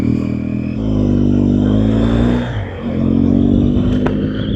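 Motorcycle engine rides loud and close on the way to a gas station, revving up and down with a brief dip in throttle midway, no talking over it.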